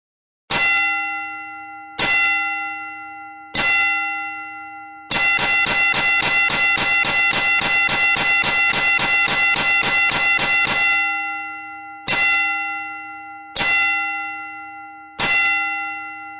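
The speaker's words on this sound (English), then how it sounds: "A vessel aground must ring the bell, and if required sound the gong, and in addition must ring 3 separate and distinct strokes on the bell" A ship's bell on a vessel aground rings three separate, distinct strokes, then a long stretch of rapid, continuous ringing, then three more distinct strokes. The metallic clangs are loud and clear with long ringing decay.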